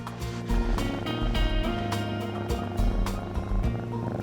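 A cat purrs steadily at close range during a vet's health check, a low rhythmic rumble that swells and fades with each breath.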